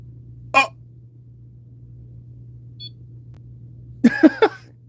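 An electronic device used during ghost hunting in a basement gives a short beep, then after a quiet stretch a quick burst of three beeps, close and distinct over a steady low hum.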